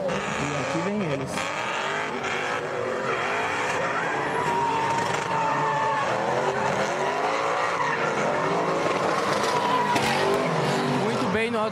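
Drift cars in a Super Drift Brasil competition, one of them a Chevette, roar under hard acceleration with continuous tire squeal and skidding, loud and close, while a commentator talks over them throughout.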